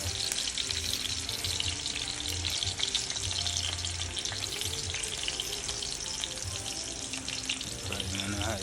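Blanched sweet potatoes fry in hot oil over high heat, producing a loud, dense, continuous bubbling sizzle that stays close and unbroken for the whole stretch.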